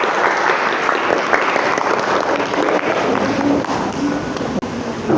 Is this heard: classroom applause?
yes